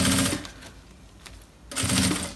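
A sewing machine stitches bias binding around a fabric shoe bag in two loud, fast whirring bursts close by, separated by a quieter pause.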